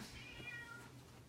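A cat meows once, a short faint call indoors in a small room of a house, with quiet room noise and no talk.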